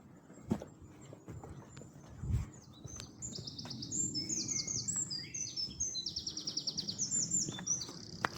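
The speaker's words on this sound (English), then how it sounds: "Lovely bird song." Songbirds chirp and warble near a tidal estuary among primroses, bluebells and wild garlic, bright repeated phrases growing denser over several seconds, with a few soft thumps and footsteps at first and no talking.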